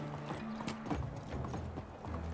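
Donkey hooves clip-clopping in the medieval survival game Medieval Dynasty, a steady run of close, moderately loud hoofbeats over soft game ambience, with no talking.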